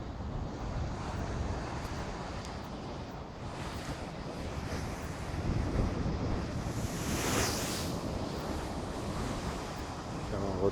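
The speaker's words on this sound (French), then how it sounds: "on va venir faire un tour sur la plage, la grande plage de Biarritz" Waves break on the Grande Plage of Biarritz in a continuous wash of surf mixed with gusty wind rumble against the microphone, swelling midway through with a louder crashing wave.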